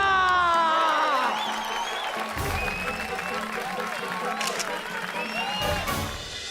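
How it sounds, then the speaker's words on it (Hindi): A TV show audience breaks into loud applause mixed with cheering and whoops, a dense crowd sound with voices rising over the clapping throughout. "तो बजाइए अमृतलाल डगली जी के लिए तालियां"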